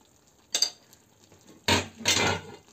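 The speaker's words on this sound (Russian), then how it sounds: "Накроем крышкой." A metal lid goes onto a pot of pilaf, giving one light clink and then two heavier clattering clanks close by in a quiet kitchen.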